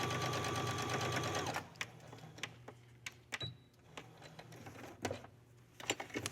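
Sewing machine running steadily for about a second and a half while understitching a pocket on a dress, followed by quiet handling clicks and fabric rustles.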